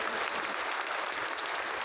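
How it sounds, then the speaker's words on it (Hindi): Audience applause at a Jan Suraj party gathering in Patna, welcoming Doctor Jagriti: dense, steady clapping from a crowd, fairly close and sustained without letting up. "जोर से ताली बजनी चाहिए।"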